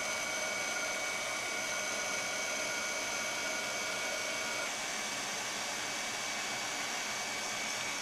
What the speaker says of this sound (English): Get my heat tool warmed up and we'll melt this glaze.